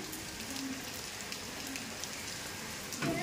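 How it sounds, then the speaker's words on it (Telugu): Heavy rain pours down in Chennai during the hot season, a dense, steady hiss of drops hitting surfaces, with a brief thump near the end and no talk. "మంచి ఎండల టైంలో కూడా ఫుల్ వర్షం అయితే పడుతుంది."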